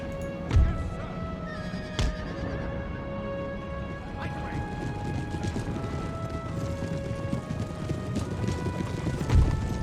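Horses galloping across an Empire: Total War battlefield, a steady dense rumble of hooves with occasional whinnies, against a continuous busy battle-noise backdrop throughout.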